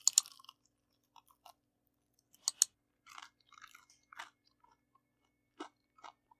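Crunchy air-fried fish in a spicy Louisiana-style wet batter being chewed up close, with sharp crisp bites and then quieter, irregular crunching and munching spread across several seconds, with no talking.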